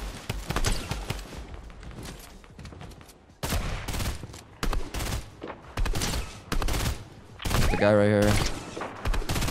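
Fortnite gunfire during a fight: bursts of rapid shots and heavy impacts in several clusters separated by brief gaps, fairly loud, with a player talking over parts of it.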